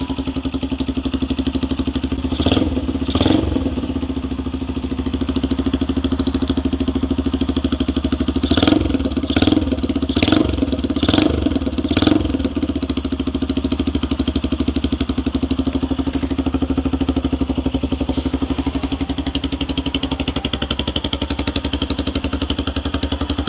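A Jawa 250 cafe racer motorcycle with a swapped engine idles steadily with a low, even thrum, briefly blipped a few times before settling back to a smooth idle.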